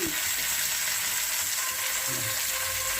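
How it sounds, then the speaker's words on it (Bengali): Chicken pieces dropped into a pan of fried onions, hissing in a loud, constant sizzle with faint stirring scrapes underneath. "পেঁয়াজটা ভাজা ভাজা হয়ে গেছে, এবার চিকেন দিচ্ছি"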